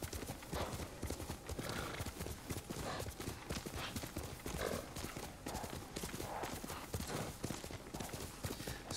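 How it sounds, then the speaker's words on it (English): A horse galloping in the video game Ghost of Tsushima: rapid, rhythmic hoofbeats pound steadily throughout, with an occasional whinny, all heard faintly at low volume. "Sometimes I do wish the horse was just a touch faster."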